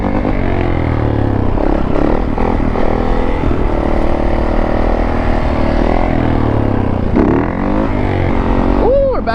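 A Yamaha YZ dirt bike engine runs loud and close throughout, holding a steady drone with shifting revs and a brief rising whine at the end, while a voice speaks over it.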